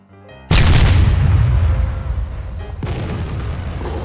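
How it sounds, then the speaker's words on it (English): A single heavy artillery explosion in a video game bursts out loud and sudden, then rumbles and fades over several seconds, with a thin electronic tone beeping faintly in the tail. "it's artillery"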